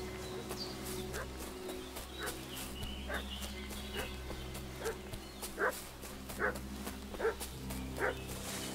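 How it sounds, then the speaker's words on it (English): A dog barks repeatedly at a distance in the medieval role-playing video game Kingdom Come: Deliverance 2, single barks at fairly regular intervals over a steady ambient background with birds. "What's that dog making such a fuss about?"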